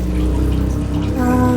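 Pork simmers in its own juices in a pan for grilling, giving a steady, loud bubbling and sizzling wash throughout with no talk.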